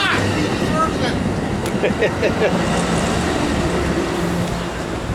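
An Amtrak train rolls to a stop at Fullerton station, a steady loud rumble of wheels and cars with faint squeals and clicks, voices heard over it.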